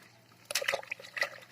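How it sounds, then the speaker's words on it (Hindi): Water in a bucket sloshing and splashing as freshly harvested ginger is swished about to wash the soil off, a short burst of close, wet agitation after a quiet start. "ऐसे बाल्टी में पानी लेके उसको ऐसा ऐसा करने से उसकी सभी मिट्टी निकल जाती है।"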